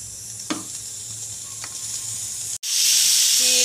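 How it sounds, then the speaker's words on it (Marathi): Tomato chutney being sautéed on a hot tawa: faint clatter at first, then a loud, steady sizzle bursts in and hisses continuously up close. "ही टोमॅटोची चटणी केली होती सकाळी, ती आता तव्यात परतली आहे मी"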